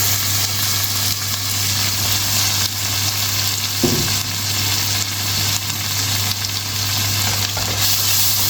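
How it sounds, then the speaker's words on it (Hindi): Red lentils tipped into a pan of well-fried masala for a black pepper chickpea curry, giving a steady, close sizzle with a brief clatter of stirring midway and a constant low hum underneath. "अब मैं इसमें 1 कप जो है ना वो मसूर की दाल डालूंगा, रेड वाली।"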